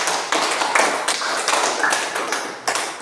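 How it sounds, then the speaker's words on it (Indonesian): A classroom of students breaks into applause, a dense, fairly loud patter of many hands clapping together that swells and dips for about three seconds. "Tepuk tangan dulu tuh semua."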